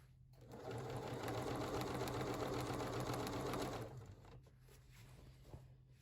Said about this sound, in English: For machine quilting straight lines and gentle curves, I always use a walking foot.